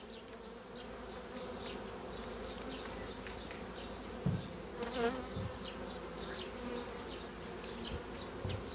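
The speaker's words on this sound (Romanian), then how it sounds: "Iată și aici o ramă unde vine albina cu polen." Honeybees buzz steadily around a hive frame, with a bee arriving carrying pollen, a dense close drone with individual bees passing nearby and a couple of faint knocks.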